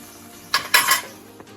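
A spoon scraping cooked sambhariya chillies out of a pan into a bowl, two quick bursts of metallic scraping and clinking close up, then a faint tap near the end against a quiet background.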